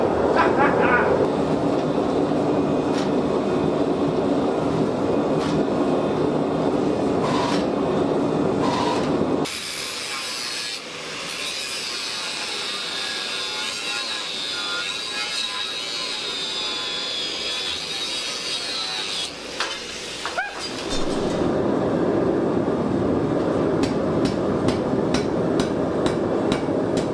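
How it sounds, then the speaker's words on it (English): Sword tang being hammer-forged on an anvil at a smithy, sounding as steady, loud, sharp metallic hammer blows that stop for a quiet stretch midway and then resume. "flip this around and forge down our tang before we start to bevel it"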